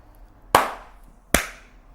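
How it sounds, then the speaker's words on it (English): Two sharp, loud hand claps close by, spaced nearly a second apart, made to sync video at an interview with a band at the Star and Garter in Manchester, each followed by a brief room echo. "if one of you guys could do a clap for me to sync up the video"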